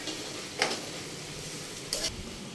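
Spiced filling being stirred and mixed in a hot pan, a soft continuous sizzle with two brief scraping strokes of the spoon, close and quiet, no talking.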